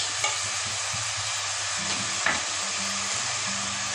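Minced garlic sautéing in a pot for Turkish lentil soup, sizzling steadily with soft hiss and occasional scraping stirs of a utensil against the pot, close and moderately loud.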